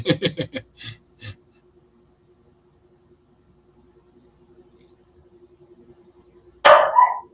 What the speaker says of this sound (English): my dog just started freaking out